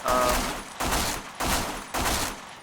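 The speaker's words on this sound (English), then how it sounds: "Sometimes I'll fire off 3 bullets by mistake." Four rapid bursts of gunfire ring out at an even pace during aim training against bots in the video game Black Squad, each blast sharp and loud and then trailing off.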